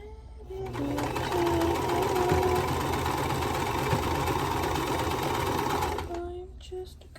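Sewing machine stitching rows of a vintage quilt block runs in one continuous, even burst of several seconds, with soft talk before it starts and after it stops.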